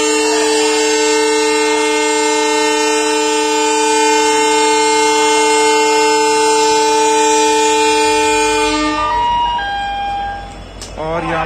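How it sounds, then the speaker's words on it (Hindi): Express train horn blasting long and loud at Moradabad Junction as the train starts to depart, a sustained steady tone that cuts off near the end, followed by brief rumbling and clatter. "यहाँ पे फर्स्ट होम के साथ ट्रेन ने थोड़ा थोड़ा चलना शुरू कर दिया है"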